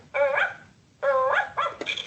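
An electronic toy puppy gives two yapping barks followed by a quicker double yip, close and clear with nothing else around it.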